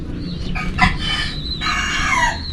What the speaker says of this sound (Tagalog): Kinakain niya yung ratilis, yung ating manok.